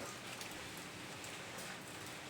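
Rain falls in a Thai garden where guava trees are being grafted, a dense steady hiss of drops without a break, faint and even, with no voices.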